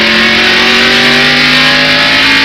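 NASCAR stock cars race at the 1991 First Union 400, their V8 engines roaring loud and near in one continuous rising whine with no one speaking.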